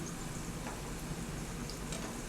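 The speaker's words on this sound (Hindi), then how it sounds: "दूसरी साइड से फ्राई करके हमारे पकोड़े जो है ना बिल्कुल रेडी रहेंगे" Curry pakora frying in hot oil as the pieces are turned over, a steady close sizzle and crackle with faint clicks of the turning utensil and no talking.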